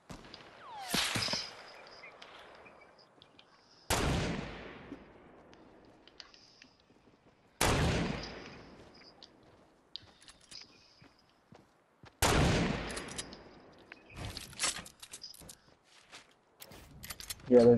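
Distant gunfire in a shooter video game, with four or five sharp cracks spaced a few seconds apart, each trailing into an echoing tail, plus fainter scattered shots between them.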